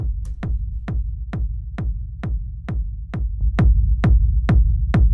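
Acid techno kick with a rumble bed, dry and without saturation: steady four-on-the-floor thumps, evenly spaced, over a continuous low droning rumble.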